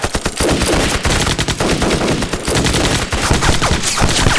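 Heavy machine-gun and rifle fire in a war-drama battle by a riverbank ambush, dense rapid bursts of shots sounding loud and close, continuous throughout with no talking.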